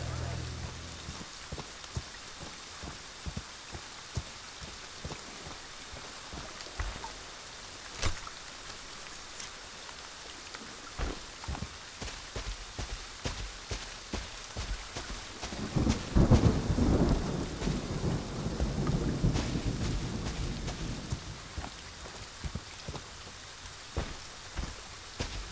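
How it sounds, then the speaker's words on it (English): Rain and thunder in the horror game Friday the 13th: continuous rainfall with scattered sharp crackles, and a deep rumbling thunder roll that swells midway and slowly fades, moderately loud with no clear talking. "I love that it's always fucking raining."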